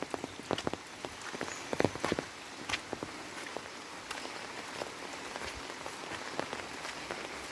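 Rain falling over farmland and greenery in the monsoon season, a steady soft patter with scattered sharper drops, no voices.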